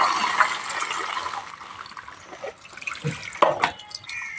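Tap water runs and splashes while small cut rohu fish are rinsed, a trickling, uneven flow with brief louder splashes near the end, close by and without speech.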